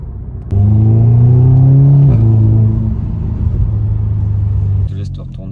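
A car engine revs up in one sustained rising roar, then drops and settles into a steady idle, loud and close, with a brief rustle at the end.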